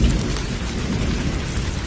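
Heavy rain and rolling thunder in a cartoon storm, a dense, continuous downpour with a low rumble underneath, loud and steady throughout with no voices.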